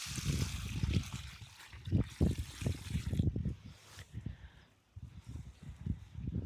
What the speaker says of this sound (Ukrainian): Заливаю пів відра води.